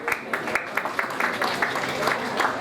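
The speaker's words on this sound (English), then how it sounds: "Let's give a big round of applause to these people." An audience at the 9th Alliance of South Asian American Labor convention in New York claps in a steady, moderately loud patter of hand claps that fills the hall, with no voices on top.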